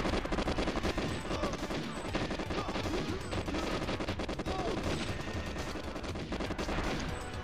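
Sustained rapid gunfire aimed at the player in GoldenEye 64 on Xbox, dense bursts of shots rattling continuously at moderate level over game background noise.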